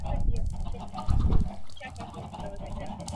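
Chickens clucking in a video game, short bursty clucks and squawks in quick succession under a busy game soundscape, with one louder flurry near the start.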